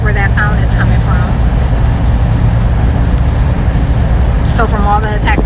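A car with a damaged exhaust underneath gives a loud, continuous low rumble throughout, with voices talking briefly over it at the start and again near the end.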